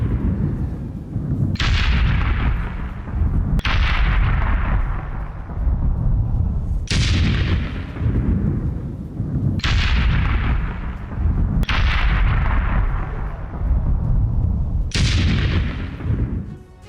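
Artillery from an IDF strike pounds a Hezbollah camp in Lebanon: a series of heavy, rolling booms about every two seconds, each bursting loudly and trailing off in a long rumbling echo.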